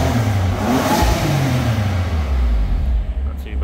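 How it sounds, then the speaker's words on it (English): A warmed-up BMW M4 Competition with a 444 bhp 3.0 engine revs in comfort mode, a loud, steady close engine drone with a rising and falling pitch that eases off toward the end. "we've let the vehicle warm up and we'll see what it sounds like first in comfort mode"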